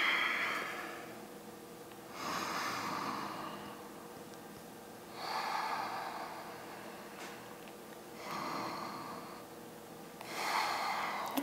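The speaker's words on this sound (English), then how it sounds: "Nice deep breaths here." Deep, slow breathing during an intermediate yoga flow, four long airy breaths spaced about three seconds apart, close and steady, with no talking.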